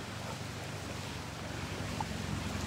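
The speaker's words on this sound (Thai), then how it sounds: "คือตอนนี้เรียกได้ว่ากระแสน้ำไหลเชี่ยวแรงพอสมควรนะครับ" Fast-flowing floodwater rushing through Chok Chai district near a bridge, a continuous broad roaring wash of current mixed with wind, steady throughout with no talk.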